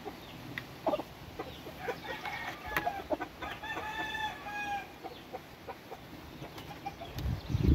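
A game rooster crows in a long drawn call amid scattered clucks and farmyard chicken noises, fairly close, with a rustling thump at the end.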